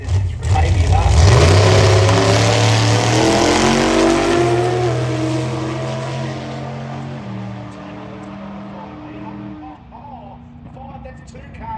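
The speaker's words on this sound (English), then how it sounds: "I assumed that the Falcon wagon was slower, but this is the one with the turbo LS in it" A Ford Falcon wagon race car with a turbo LS engine revs hard and accelerates, climbing through rising gear pulls, then fades into the distance at a drag strip. Commentary plays over it.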